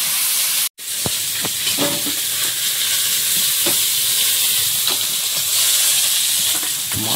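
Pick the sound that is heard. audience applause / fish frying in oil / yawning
fish frying in oil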